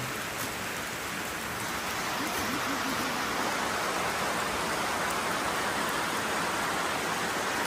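Heavy rain pours down steadily, a dense, loud hiss of drops hitting surfaces that fills the whole stretch without letup.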